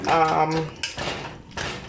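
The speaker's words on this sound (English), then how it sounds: "Use a potato masher and mash it" Cooked apples mashed in a pot with a metal potato masher while making homemade applesauce: a few close clanks and dull thumps of metal against the pan, with a brief voiced tone at the start.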